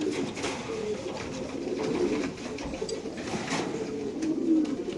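Pigeons at a bird seller's coop coo in overlapping low, throaty calls that roll on continuously, close by and moderately loud, with a faint voice underneath.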